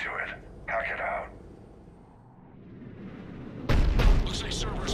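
Cannon fire in the Mass Effect 3 science-fiction shooter: a sudden heavy booming blast near the end, loud and close, following a quieter stretch with brief voice-like sounds early on.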